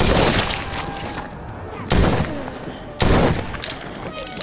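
Gunfire in the video game The Walking Dead: Saints and Sinners, two loud sharp shots about a second apart over a low game ambience.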